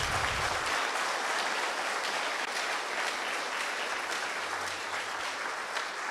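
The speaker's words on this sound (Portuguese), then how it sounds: "Vamos aplaudir o nosso Deus bem forte." Steady applause from a church congregation during a worship service, dense and continuous clapping filling the whole stretch at a fairly loud level with no talk over it.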